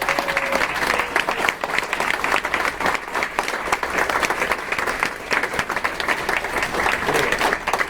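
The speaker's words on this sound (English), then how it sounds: "All regional directors that's in the room, please stand and definitely give them a round of applause." A room full of people applauds regional directors at a business opportunity meeting in Toronto, steady dense clapping sustained for the whole stretch, loud and close with a crowd murmur beneath.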